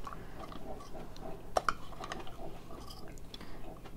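Someone eats a bowl of kuay jap yuan noodle soup up close. There is soft, moist chewing and mouth sounds with a couple of sharp little clicks midway, all quiet and without talking.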